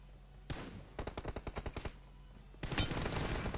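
Gunfire in the mobile game PUBG Mobile: a single loud shot, then a rapid burst of about a dozen evenly spaced automatic rounds, then a denser sustained volley, close and loud with no talk over it.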